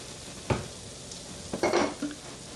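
Onions cooking in a pot for French onion soup, seasoned with black pepper, are stirred over a steady sizzle, with a sharp scrape, then a cluster of clinks and stirring scrapes, close and with no talking.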